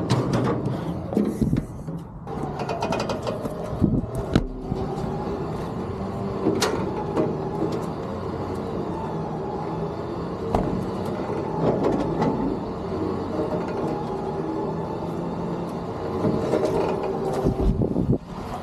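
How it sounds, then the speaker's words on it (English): An electric winch strains to pull a car up onto a car hauler trailer, its motor whirring unevenly beneath clanks and metallic rattles of chain and ramp, moderately close and without talk. "winch is slowing down, but I think she's gonna give us what we need to get us up"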